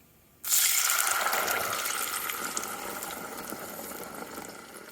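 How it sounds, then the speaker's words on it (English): Canned cannellini beans and their liquid are tipped into a pot, starting with a sudden loud gush that continues as a close, steady pour and slowly eases off. "you open your can of beans and you use all of the water, everything. This is cannellini beans."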